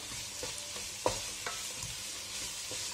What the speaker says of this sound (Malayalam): സവാള ചേർത്തൊന്ന് നന്നായിട്ട് ഇളക്കിയതിന് ശേഷം കുറച്ച് ഉപ്പ് ചേർക്കാം.